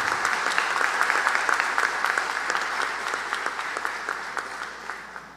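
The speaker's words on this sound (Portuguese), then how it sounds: "nós podemos aplaudir esse momento ao nosso novel pastor" A church congregation claps for a newly consecrated pastor at an ordination service, with steady applause that starts full and gradually thins out over about five seconds, individual claps standing out as it fades.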